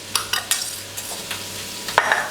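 Stirring a mixture in a pan while making stuffed cabbage, a series of close scraping and tapping spoon strokes over a faint sizzle, with a louder clatter near the end.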